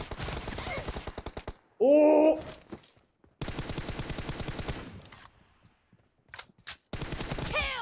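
Rapid machine-gun bursts in a 1v1 team deathmatch video game, sharp repeated gunfire in clusters separated by pauses, with a player's excited voice shouting between shots.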